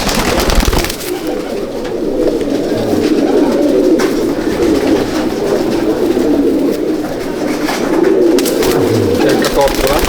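Champion Andhra breed pigeons coo in a loft, a continuous low, throaty burbling close to the listener, with a voice talking over it at times.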